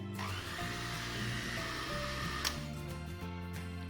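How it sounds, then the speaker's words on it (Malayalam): An electric beater whirs steadily as it mixes red velvet cake batter, a continuous close motor drone with no pauses and no voices. "ഇനി ജസ്റ്റ് ഒന്ന് ബീറ്റ് ചെയ്യാം ഒരുപാട് സമയം ബീറ്റ് ചെയ്യരുത്"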